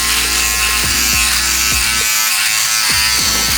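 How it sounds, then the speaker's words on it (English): An electric beard shaper trimming the neckline, a loud close buzzing hum with repeated pitch dips as the blades bite into hair, running continuously without speech. "I have a shaper specifically for that, which I'm gonna use, which is just real simple and clean cut"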